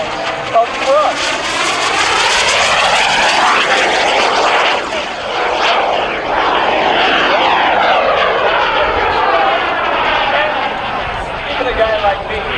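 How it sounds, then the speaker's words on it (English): A small jet aircraft producing only 253 pounds of thrust flies past at an air show, its loud, steady engine whine and rush rising and falling in pitch as it passes. "This jet produces only 253 total pounds of thrust."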